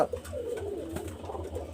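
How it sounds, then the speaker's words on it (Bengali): A pigeon coos in low, rolling murmurs, close and fairly steady, with soft repeated pulses and no voices present. "এখানে দেখেন একজন কবুতর আমি দেখাচ্ছি দেখেন"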